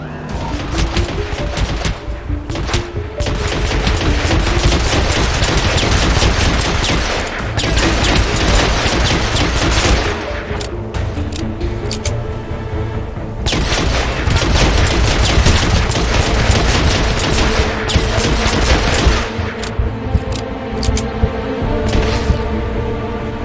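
Close-quarters gunfight in Hitman Absolution: loud, continuous rapid gunfire with crashing impacts, sustained for over twenty seconds with only brief dips in intensity.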